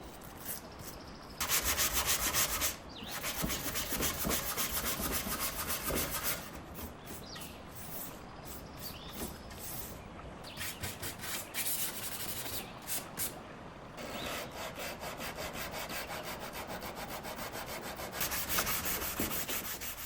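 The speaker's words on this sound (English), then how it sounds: "I'll finish sanding with 220 grit using various sanding tools as necessary." Wooden drawer fronts from an old painted dresser being sanded with 220 grit, a steady rubbing rasp coming in long passes with short pauses between them, close and fairly loud, with no talking.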